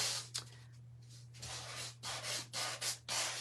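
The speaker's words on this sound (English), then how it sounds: "It's a sanding block. Can be used for anything." A sanding block rubs over a surface during card making, giving a series of close, scratchy swipes that start sparse and then come in quick, uneven strokes over a low steady hum.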